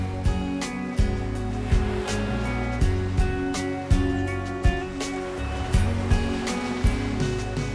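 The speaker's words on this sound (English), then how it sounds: "The waves of the Atlantic relentlessly wash over the coastal rocks" Atlantic surf on the rocky coast of Corsica breaks and washes over the rocks in a steady roar, with repeated surges about once a second, near and continuous, and no voices.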